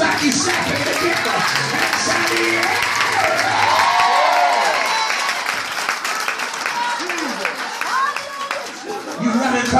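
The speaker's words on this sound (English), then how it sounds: "Why don't you clap your hands like you're slapping the devil?" A church congregation claps and cheers loudly for about ten seconds, the applause mixed with whoops and a preacher's voice talking and chanting over the noise.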